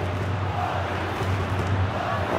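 A packed stadium crowd in a football video game at the Santiago Bernabeu keeps up a continuous, dense roar at an even level, with no single voice standing out.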